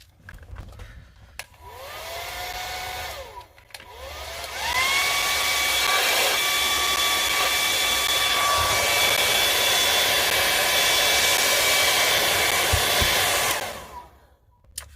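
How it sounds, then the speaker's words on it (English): A large heat gun whirs up twice, first briefly and then in a long steady roar of about nine seconds, drying a hand-painted Christmas card before cutting off. "Bring out the big heat gun."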